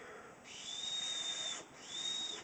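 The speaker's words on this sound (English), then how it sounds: "So now it makes a perfect whistle." A carved willow whistle gives two long, high tones, each held for about a second with a brief breathy gap between, fairly loud over a soft airy hiss.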